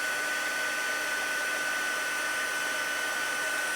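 Heat embossing tool blowing steadily on embossing powder over cardstock, a constant close airy whoosh with a faint high whine, unbroken and alone throughout.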